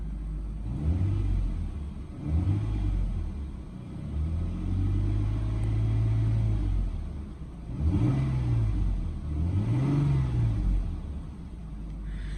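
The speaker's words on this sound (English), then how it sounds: "I'll go in and rev it a tad bit here" A stock 2002 Lexus IS300 engine with original exhaust, slightly warmed up, revs up and settles in repeated surges, rising and falling pitch about four times over a steady idle rumble, close and loud.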